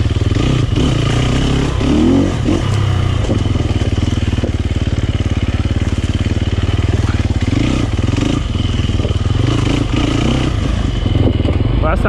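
Sherco dirt bikes ridden around a demo loop at a demo day produce a loud, continuous two-stroke-style engine buzz. The revs rise and fall repeatedly as the rider works through tight turns.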